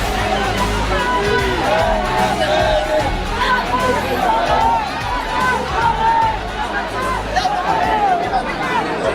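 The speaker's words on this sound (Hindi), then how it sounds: "यहाँ पर भीड़ लगी हुई है इतनी" A large, dense crowd gathered in Mathura to see Chandrashekhar Azad, a continuous hubbub of many overlapping voices, loud and close, with scattered shouts rising above the babble throughout.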